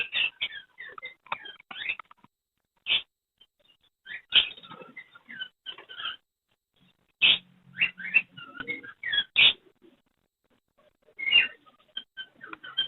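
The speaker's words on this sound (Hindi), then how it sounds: "ये पीच फेस का बड़ा पेयर है, कन्फर्म ब्रीडर पेयर है।" Peach-faced lovebirds at an outdoor bird market, sharp shrill chirps and squeaky calls coming in irregular clusters with short silent gaps, close and clear.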